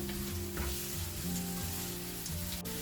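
Carrots and beans stir-fried in a pan for vegetable noodles give off a loud, steady close sizzle, with a sustained low hum beneath and a faint scrape near the end.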